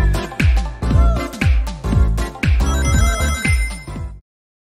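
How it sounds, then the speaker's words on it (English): An isolated channel from the Sonic 2 video game soundtrack plays a western, desert-style whistle melody: a loud, bright sequence of short repeated tonal notes in a steady rhythm, ending abruptly. "It even has a typical western desert-like whistle sequence"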